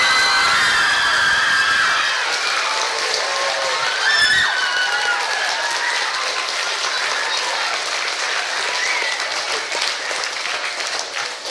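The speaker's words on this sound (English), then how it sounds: "Let's give Katie a big round of applause." A school audience of children and adults applauds loudly and steadily after a mini musical production of Matilda, with cheers and shouts rising above the clapping throughout.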